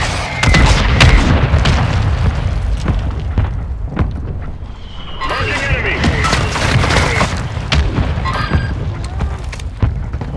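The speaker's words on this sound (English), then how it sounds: "Mortar strike underway." Mortar strike explosions in Call of Duty: Modern Warfare II, a dense run of booming blasts and crashing impacts layered over continuous battlefield noise, loud throughout with short sharp bursts scattered across the barrage.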